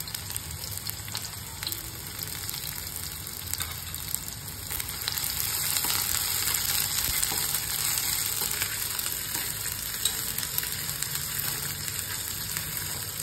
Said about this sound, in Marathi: मिरची फुगली की लगेच मी त्याच्यामध्ये कांदा टाकून घेणार आहे आणि कांदा छान लाल होईपर्यंत